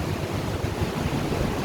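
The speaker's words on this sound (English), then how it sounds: "the waves are coming almost all the way up to the grass" Heavy surf from an approaching typhoon rolls up a shrinking beach toward the grass at Danang, Vietnam, a steady broadband roar of breaking waves mixed with wind buffeting the microphone, loud and continuous with no voices.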